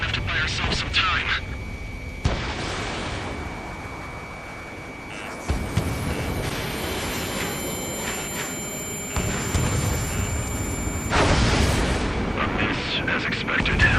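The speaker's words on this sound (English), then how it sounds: "Some kind of energy weapon. No, it's a railgun." Railgun energy weapon firing during an aerial combat mission in Ace Combat 7, heavy booming blasts with sharp electronic tones and sustained rumble, loud and close, mixed with game sounds.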